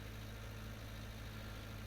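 Low-horsepower tractor engine in Farming Simulator 19 labouring uphill at a crawl, a steady, quiet, low droning hum with a constant mechanical rumble and no change in pitch.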